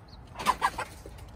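A few new chickens give three quick clucks close up while being fed tomato and bell pepper.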